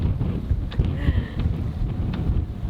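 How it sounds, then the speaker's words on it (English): Wind blows over a sailboat at sea, buffeting the microphone with a steady low rumbling roar that carries faint creaks and splashes, with no voices. "Well, it got windy."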